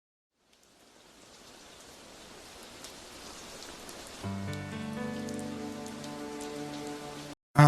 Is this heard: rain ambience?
yes